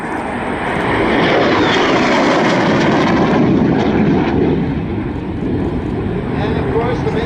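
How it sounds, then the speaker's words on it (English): A MiG-17 jet fighter passing at an airshow, a loud broad roar that swells over the first seconds, holds near overhead and slowly eases off, with some speech faintly mixed in. "the MiG-17 among the first jet fighter aircraft"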